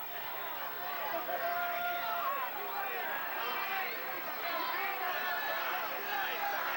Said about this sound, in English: This at ringside has gotten a lot of noise out of our crowd tonight.